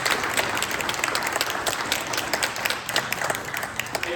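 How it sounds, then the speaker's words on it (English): A town hall audience at a rural Kansas panel discussion applauds the panel, a steady dense patter of many hands clapping at moderate loudness throughout, with no speech. "can we give our panel a round of applause?"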